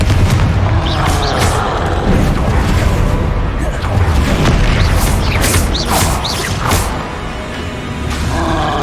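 Confringo explosion spells fired in Hogwarts Legacy, a series of loud booming blasts with sharp cracking bursts that come one after another, sounding close and heavy, with a voice speaking between them.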